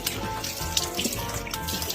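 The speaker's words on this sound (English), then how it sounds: "Rinse it thoroughly with water" Water runs steadily from a tap as hands are rinsed during a hand-washing routine, a continuous close splashing hiss with no talking.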